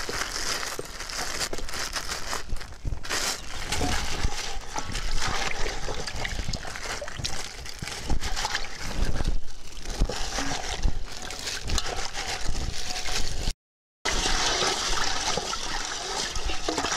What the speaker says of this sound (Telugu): 1/2 లీటర్ నీళ్లు మనం గిన్నెలో తీసుకుని అందులో బెల్లం మెత్తగా కొట్టి